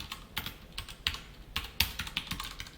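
CSS code being typed on a computer keyboard: quick, irregular key clicks up close, with a few sharper taps standing out, and no voices.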